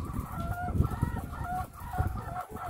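Laying hens on an egg farm cluck steadily in a dense, overlapping flock chorus, with repeated calls rising over a constant background of birds at moderate volume.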